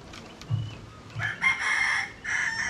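Chicken named Pagaspas in its coop, crowing in drawn-out bursts close by, preceded by a couple of low clucks.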